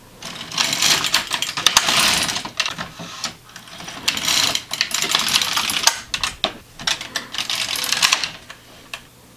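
Repeated swishing, clattering passes of an LK150 knitting machine carriage sliding across the needle bed as rows are knitted, four loud sweeps with brief pauses between them.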